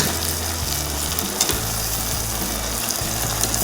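Chickpeas and field beans hit hot oil in a frying pan for a spiced Pongal kuzhambu, raising a loud continuous sizzle with stirring scrapes and a low steady hum underneath.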